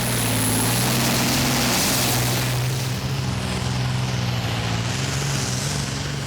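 A Transmash R6-powered 1,000 horsepower pulling tractor roars continuously at a 2008 Danish tractor pulling championship as it drags a weighted sledge, a loud, droning, strained engine note filling the whole stretch.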